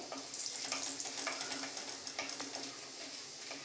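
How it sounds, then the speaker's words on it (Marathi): Urad dal, a tablespoon of it, sizzles in a few tablespoons of hot oil, a dense continuous crackle and hiss with small pops and scraping stirs, fairly close and with no talk. "तेल गरम झाल्यावरती ही जी उडीद डाळ आहे एक टेबलस्पून ते ॲड केलेले आहे"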